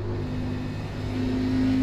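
Race car engine from the iRacing simulator during an XFINITY Series race at Iowa, a steady loud drone with sustained engine tones rising slightly in pitch, heard alone without talk.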